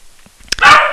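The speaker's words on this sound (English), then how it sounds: "that would be my dog" A pet dog gives one sharp, loud bark close by, after a brief quiet lead-in.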